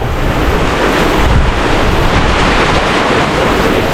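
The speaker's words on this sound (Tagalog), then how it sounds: "Lakas ng ulan kaso dito sa nasilungan tumutulo rin" A steady, dense roar of heavy rain pours down without pause, loud and close, with no voices.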